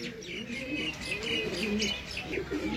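Jeth-season flying pigeons offered for sale coo in overlapping soft, rolling phrases close by, with light chirps on top and no voices.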